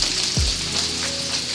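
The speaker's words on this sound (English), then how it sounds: "So we're just gonna pan fry these." Italian sausages sizzle in a hot pan on a stovetop, a steady, close frying hiss with a brief low thump as they go in.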